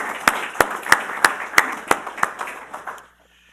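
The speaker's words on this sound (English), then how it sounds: "So if I could get a round of applause for everybody for AUSA." Audience at an AUSA cyber conference breaks into applause, with a steady run of sharp claps over a broad crowd wash that fades out and stops just before the end.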